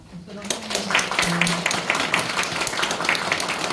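An audience applauds steadily to welcome a priest about to give an Advent lecture, the clapping starting just after a voice and continuing as a full, even patter.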